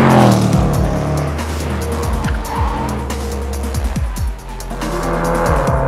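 A 2015 Range Rover Sport SVR with 550 hp at speed on a race track, loud engine roar rising and falling through gear changes with tire squeal in corners, close and continuous.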